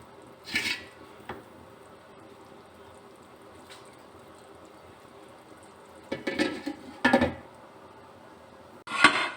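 A metal lid is set over a cooking pot of masala and water for biryani, giving a few sharp clanks and rattles, one early and a cluster near the end, against a quiet kitchen background.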